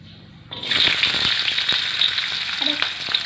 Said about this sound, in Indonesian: Sekarang kita tuang bawang teman-teman.